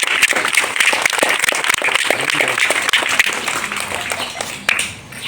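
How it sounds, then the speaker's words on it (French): A school crowd of pupils applauding together at a school assembly, dense rapid clapping that stays loud throughout and tapers slightly toward the end. "Acclamez très fort"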